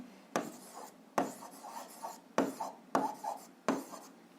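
A pen scratches across paper while an algebra answer is written out, about six short, close strokes in an uneven rhythm, each a quick scrape followed by brief silence.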